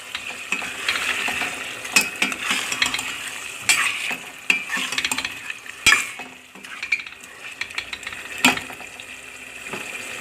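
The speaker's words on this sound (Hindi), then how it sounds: "पोटैटो हमने बड़े साइज़ में कटिंग किए हैं तो इसलिए हम अभी से पोटैटो भी डाल देंगे।" Large-cut potatoes fry in a pan of chicken curry, with a loud sizzling hiss and repeated sharp scrapes and knocks of a spoon stirring them, uneven in rhythm.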